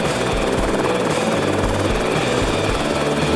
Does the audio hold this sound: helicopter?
yes